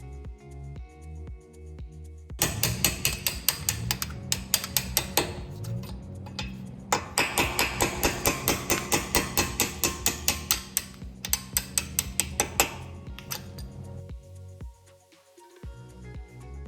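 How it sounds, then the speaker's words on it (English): A ratchet wrench removes the brake caliper guide bolts on a VW Touareg 7P, giving rapid, close metallic clicking in fast bursts with short pauses between runs. "Remove the caliper guide bolts and remove the safety clamp from the caliper."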